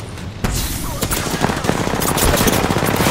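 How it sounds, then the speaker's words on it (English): Rapid Re-45 pistol fire in Apex Legends, a loud continuous stream of shots over game noise, with no talk. "this kid with a Re-45 is shooting me from across the map"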